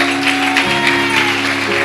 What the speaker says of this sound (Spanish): Denle un aplauso más fuerte al Señor.